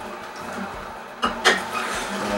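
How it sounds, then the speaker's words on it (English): A Hurom SBB11 juicer hums steadily as its auger crushes spinach, with a couple of sharper knocks and crunches midway over the constant motor drone. "And I'll just push them down for the auger to take them up."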